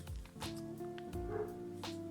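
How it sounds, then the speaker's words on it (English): A neighbour's dog outdoors near a garden gives a few short, faint yips and whimpering barks spaced across the moment, with no talking. "Sorry about the dog, it's the neighbor's dog."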